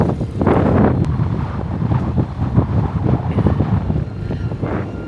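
Strong wind roars steadily across the microphone on a boat crossing choppy sea while island hopping in the Philippines, with churning water and hull noise rumbling beneath.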